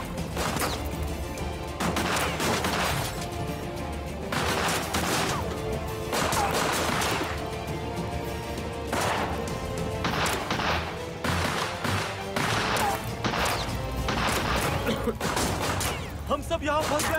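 Gunfire crackles in a historical Ottoman-era TV drama, with repeated sharp bursts and volleys spread across the scene, mixed with voices talking and shouting throughout.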